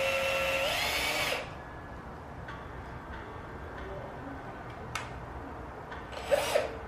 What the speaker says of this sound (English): I'm just going to take a drill and I'm going to drill into this piece of wood.